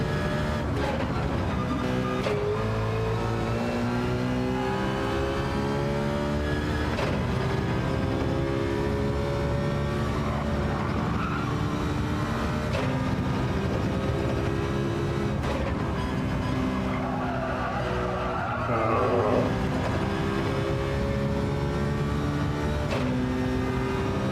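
Race car engine in Gran Turismo 7, heard continuously and loudly with rising and falling revs through gear changes, steady and close throughout with no talk.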